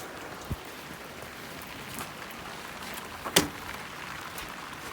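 Steady, faint rain falls outdoors as a soft, even hiss, broken by a couple of sharp isolated taps or knocks.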